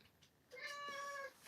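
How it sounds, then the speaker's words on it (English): A domestic cat meows once, a clear tonal call with a rising then steady pitch lasting under a second, close and distinct after a brief quiet lead-in. "That's my cat."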